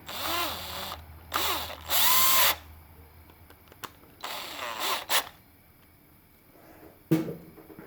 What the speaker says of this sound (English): put them screws in there. Just so you can get them started.